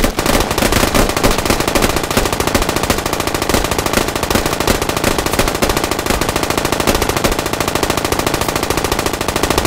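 Sustained automatic gunfire in the military shooter Squad, a loud, dense stream of rapid shots and bursts with no pauses, close and dominating throughout.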